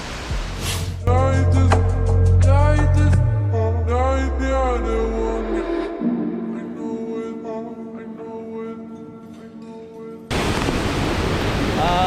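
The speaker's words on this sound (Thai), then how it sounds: "ถึงแล้วเพื่อนๆที่ผมชี้ตะกี้นั่นคือน้ำตกตรงนี้" A forest waterfall near the Piyamit Tunnel in Betong gives a steady broadband rush beneath voices and tonal sounds for most of the stretch, then surges loud and alone over the final two seconds.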